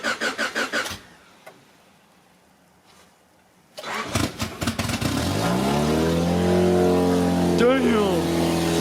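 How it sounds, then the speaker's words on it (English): A 1994 Honda Accord with open headers makes a cold start: a burst of rapid cranking, a pause, then more cranking before the engine catches and settles into a loud, raspy idle, close by, with faint voices. "it's not only gonna be open headers, it's gonna be a cold start"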